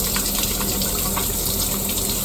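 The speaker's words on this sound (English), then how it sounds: "First things first, always wash your hands before you do anything" Tap water runs steadily into a kitchen sink during handwashing before cooking, a close, loud, continuous gushing splash throughout.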